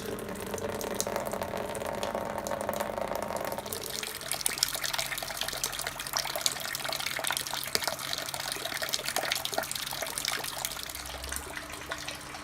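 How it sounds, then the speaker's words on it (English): Hot water at 75 °C pours steadily into a grain mash during sparging for a homebrewed beer, a continuous splashing gush that changes character partway through and keeps running, fairly close, with no talk. "So sparging with 75 degree centigrade water."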